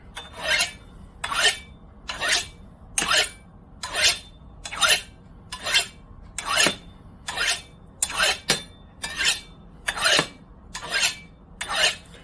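A knife blade is drawn repeatedly across ceramic sharpening rods set at a steeper angle in a pre-drilled sharpener, giving about fifteen crisp, evenly spaced rasping strokes, close and alone.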